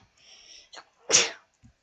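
A character sneezes in Minecraft, a single sharp close sneeze preceded by a short wheezy intake and followed by a faint small sound.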